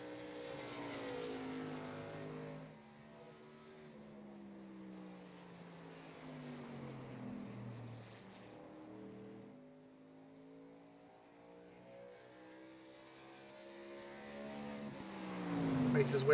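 Greg Froelich's racing truck on a qualifying lap at an oval track, its engine revving and rising through gears in long sweeping pitch climbs, fading and returning as it circles, with a commentator talking over it.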